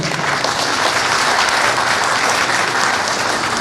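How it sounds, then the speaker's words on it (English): A room of alumni event attendees gives a sustained, even round of applause, loud and close, with no voices over it. "give yourself a round of applause for making it to this event"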